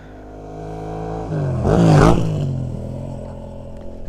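A motorcycle passes along a roadside, its engine note rising as it nears, peaking loudly, then dropping in pitch and fading as it rides away.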